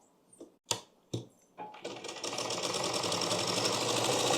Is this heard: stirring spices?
no